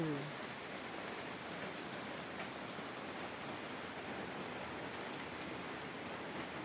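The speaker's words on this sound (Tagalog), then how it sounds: "Parang tuloy-tuloy ang ulan." Heavy rain falls steadily outdoors in the afternoon, a constant, even hiss with no breaks, while a voice is heard briefly at the start.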